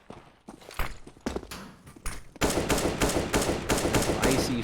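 Rifle fire from an AK in a Counter-Strike esports match, first a few scattered single shots, then a sustained rapid volley of dense, loud cracks with no talk over it.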